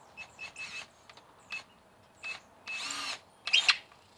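A power drill on a sailboat runs in several short bursts, revving and stopping, ending in a couple of sharp clicks as the chuck tightens home; nearby and moderately loud, with no voices.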